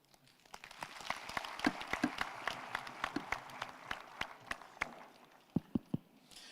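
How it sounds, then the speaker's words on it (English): Applause from an audience at a university graduation ceremony, a swelling round of clapping that thins out toward the end into a few loud, distinct single claps. "let's give another powerful round of applause"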